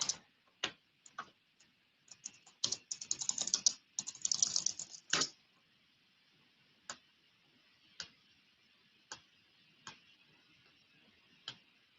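Typing on a computer keyboard, a quick flurry of close, crisp key clicks followed by slower, evenly spaced single taps, with no voices.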